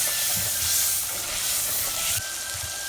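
Kundher vegetable curry being stirred and mixed in a hot pan, a steady loud sizzle and hiss with occasional soft scraping stirs underneath.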